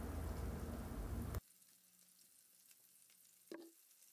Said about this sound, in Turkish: pirinçlerim topak olana kadar kavuruyorum